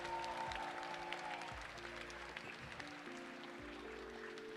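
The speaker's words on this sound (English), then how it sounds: "let's hear a big round of applause for them for all their help and support." Audience applause at an annual school thanksgiving celebration, a steady clatter of clapping from a crowd heard at moderate distance throughout.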